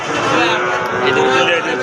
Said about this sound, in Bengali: দেখেন প্রচুর পরিমাণ বাছুর আজকের হাটে